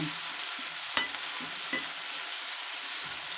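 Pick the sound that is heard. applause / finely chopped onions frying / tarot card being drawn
finely chopped onions frying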